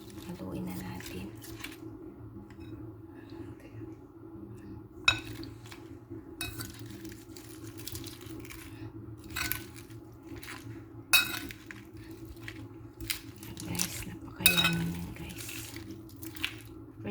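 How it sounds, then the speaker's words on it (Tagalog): A spoon stirring fresh yogurt with honey in a bowl gives soft scraping and scattered light clinks against the dish, over a steady low household hum. "ang ating fresh na yogurt tsaka honey. Haluin na natin."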